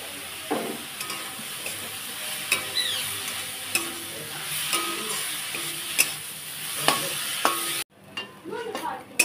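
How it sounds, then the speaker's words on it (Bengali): Pointed gourd (potol) sliced and frying in a pan with a little salt and turmeric, crackling and sizzling while a spatula scrapes and stirs in repeated strokes, close and clear. "এই দেখুন পটলটা এভাবে ভাজা হয়ে গেছে।"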